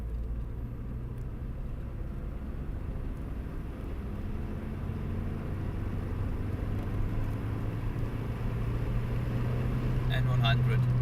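A Project Probe GT car pulls hard in fourth gear from 50 to 100, the engine drone rising steadily in pitch and loudness over about ten seconds, heard from inside with a constant road rumble.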